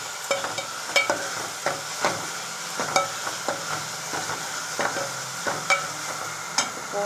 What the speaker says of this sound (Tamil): நம்ம பருப்பை இதில் போட்டுக்கலாம். ஒரு 2 நிமிஷம் வதக்கலாம்.